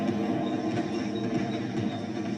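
A moving train in a TV episode gives a steady, loud rolling rumble with a dense low-end roar and no clear breaks, heard alone.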